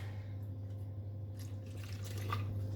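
Saltwater is tipped from several aquarium shipping bags of copepods into a single bag, giving soft trickling and splashing over a steady low hum that grows busier toward the end.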